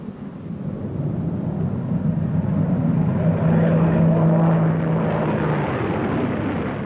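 A World War II era aircraft engine roars steadily as an airplane passes, a broad rumbling drone that swells toward the middle and slowly fades, with no voices over it.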